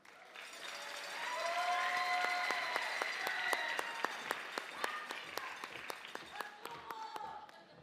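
A teacher of the year celebration audience breaks into applause that swells and holds steady, with sharp individual claps standing out and a voice speaking faintly beneath.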